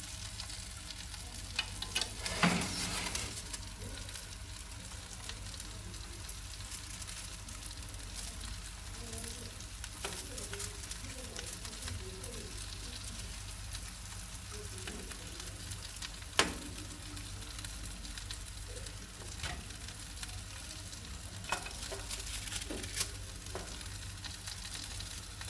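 Fish frying in oil in a pan, a steady close sizzle running throughout with a few brief louder crackles and spatters as the pieces are turned.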